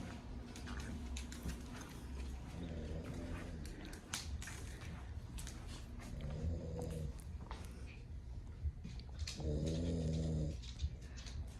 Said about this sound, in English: You're gonna hear my husband snoring.